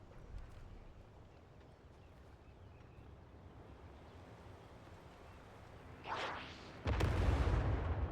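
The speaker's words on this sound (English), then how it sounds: "he's bombing from the air" Aerial bombing in Civilization VII lands as a heavy, low blast near the end, after a quiet stretch of faint background ambience, with a brief rumble just before the main hit.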